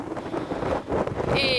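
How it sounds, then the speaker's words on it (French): Strong gusting wind buffets the microphone at a windy coastal spot at Land's End in England, with a rushing roar and a faint whistle near the end under a brief snippet of speech. "il y a trop de vent"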